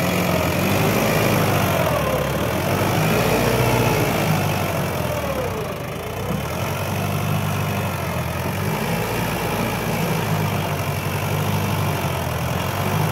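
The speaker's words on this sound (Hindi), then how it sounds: "अच्छा दम लगा रहा है ट्रैक्टर" A Mahindra 575 XP Plus tractor engine labours under load, a loud, constant deep rumble with a steady throb that dips briefly midway before resuming at full strength.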